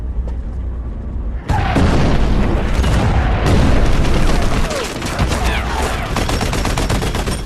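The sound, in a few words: gunfire from soldiers shooting in a film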